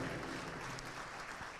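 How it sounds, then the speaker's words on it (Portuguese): A church congregation applauds together in steady, dense clapping that fills the hall and stays loud and even throughout, with no voice on top. "aplaudindo a Jesus, porque Ele é bom"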